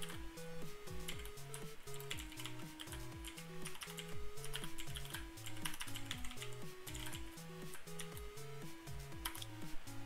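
Steady typing on a computer keyboard, with rapid, continuous clicking keystrokes at close range, soft and even, with no voices over it.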